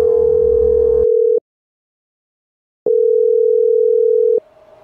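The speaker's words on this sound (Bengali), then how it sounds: "সেই সিধু দাদুই আজ সকালে হঠাৎ রিককে ফোন করে বললেন" A telephone dial tone used as a sound effect in a Bengali horror audio story: a loud, steady electronic hum plays for over a second, stops for about a second and a half, then returns for another stretch before cutting off.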